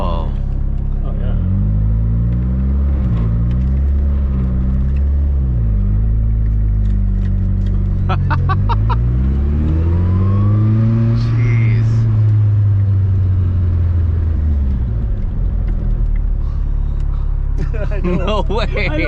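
An SR20-swapped Datsun 240Z driving loud and close, its engine note climbing and falling through several revs, with a long surge midway. Occupants briefly exclaim in the cabin.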